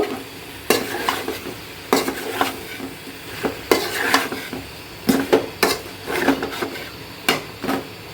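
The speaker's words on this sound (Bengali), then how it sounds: "এখন আমি আলু দিয়ে আবার একটু কষিয়ে নেব" Beef liver and potatoes frying in a pan, stirred with a spatula in repeated scraping strokes over a steady close sizzle, with occasional clinks against the pan.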